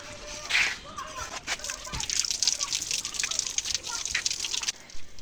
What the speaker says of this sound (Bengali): আস্তে আস্তে করে সবগুলো ধুয়ে নিচ্ছি।